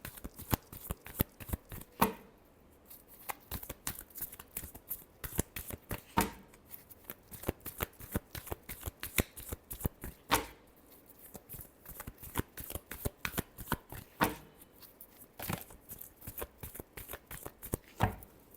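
Tarot cards being shuffled by hand, a long run of rapid papery riffles and flutters with sharp snaps between bursts, close and fairly quiet, with no talking.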